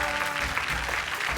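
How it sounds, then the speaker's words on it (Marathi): Applause from a studio audience at a televised women's contest show, a dense burst of clapping that carries on steadily for the short stretch. "जोरदार टाळ्या होऊन जाऊ देत."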